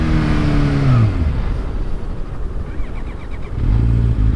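Kawasaki Ninja H2 motorcycle under way, its engine revving loudly up close, then dropping off and stumbling unevenly as the bike bucks, before surging back with a rising pitch.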